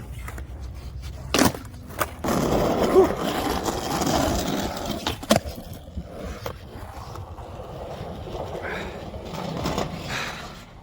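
Skateboard wheels roll over pavement with a continuous gritty rumble, broken by a few sharp clacks and knocks.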